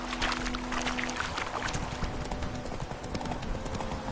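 Horse hooves clip-clopping in The Witcher 3 video game, a steady close rhythm of hoofbeats over a dense background of rustling ambience, continuous throughout without speech.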